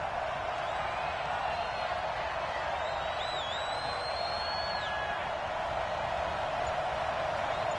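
Stadium crowd at Arrowhead in a football video game, a steady broad roar with a few whistles and whoops rising briefly near the middle, continuous and moderately loud.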